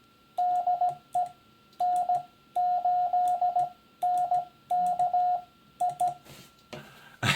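Morse code CW sending DE followed by a call sign over an amateur radio: clean, steady beeps in grouped dots and dashes with short gaps, ending in a brief burst of static.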